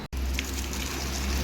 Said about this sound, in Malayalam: ഞാൻ വെള്ളം ഒഴിച്ചിട്ട് നിങ്ങളെ വീഡിയോ ഒന്ന് കാണിക്കാം.